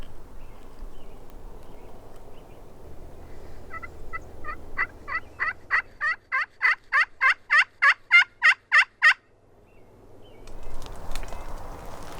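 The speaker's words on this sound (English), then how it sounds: "they're gobbling pretty good so far" A rapid series of repeated calls rises to a loud, rattling gobble, wild Merriam's turkeys sounding off at moderate distance in a quiet outdoor setting on South Dakota public land.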